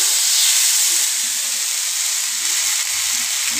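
Chicken kebab sticks fry in white refined oil on a tawa, giving a loud, steady sizzling hiss that holds without a break, with faint low bubbling underneath and nobody speaking.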